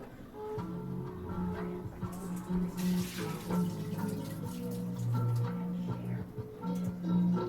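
Water drains off a pot of cooked instant noodles with a continuous splashing, gurgling pour into a sink, up close and fairly loud, with no speech.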